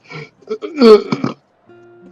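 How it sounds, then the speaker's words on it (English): A loud, drawn-out burp rumbles up close, surrounded by short bits of talk before it and a brief tonal game sound after it. "the burp was ready for me before I was ready for it"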